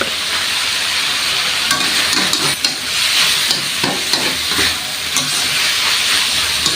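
Seasonings being stirred with kaffir lime leaves in a hot pan, giving a loud, steady sizzle and hiss with repeated scraping strokes of a utensil, heard alone throughout.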